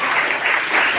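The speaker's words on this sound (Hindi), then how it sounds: "जोरदार ताली हो जाए" A brief, loud burst of audience clapping at a college cooking competition held at a government women's college, lasting only about a second.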